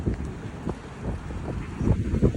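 Gusty wind on a winter day buffets the microphone with low rumbling bursts that swell and fade, loudest toward the end.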